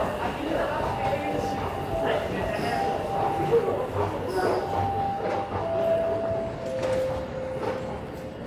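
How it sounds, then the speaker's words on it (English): Subway train at a Toronto station platform, a westbound train to Kipling, with a steady rumbling roar and high squealing tones under ongoing station noise and footsteps. "There's a westbound train to Kipling."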